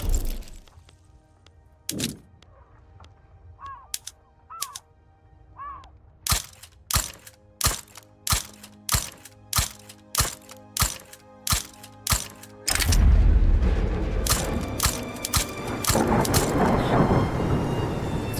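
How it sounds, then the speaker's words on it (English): A volcano eruption in the strategy game Europa Universalis IV: a string of sharp clicks and cracks gives way to a sudden loud, rumbling blast that lingers as a heavy roar. "Another explosive volcano explosion."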